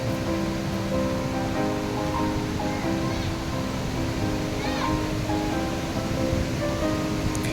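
Usri Falls heard from a distance as a steady, even rush of falling water running through the whole stretch, with faint tonal chirps drifting over it.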